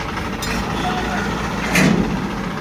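A tractor fitted with a Jagatjit super seeder runs nearby with a steady low engine hum and a short louder surge, while people talk over it.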